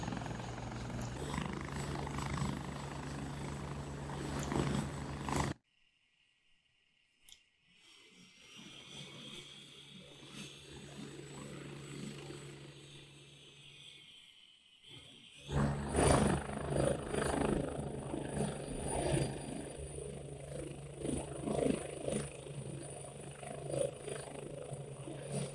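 Synthesized helicopter sound effect from vehicle sound design software: a loud rotor and engine drone that cuts out abruptly, returns as a thinner whining tone, then swells back to a full, roaring rotor sound, with no speech.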